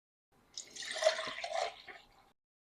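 Liquid is poured into a pan around keto carnitas pork before it goes into a 400-degree oven, a close, steady splashing trickle lasting under two seconds.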